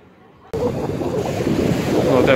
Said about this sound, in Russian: Ветерок здесь поднялся, волны.